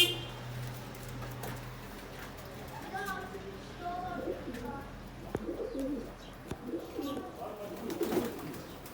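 A pigeon on a balcony coos in soft repeated phrases amid outdoor background noise, with a few faint chirps and brief sharp knocks.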